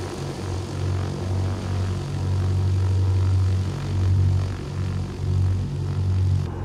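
Steady propeller engine drone of a Just Flight Duchess Model 76 twin piston aircraft in X-Plane 12, a loud, continuous low hum with slight pulsing throb and no talk.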